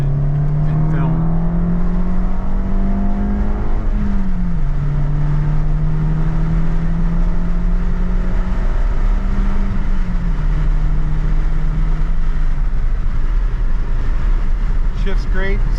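A 2013 Fiat 500 Abarth convertible with a five-speed manual accelerates on the highway, its engine droning steadily and rising in pitch through the gears, heard from inside the car with road and wind noise.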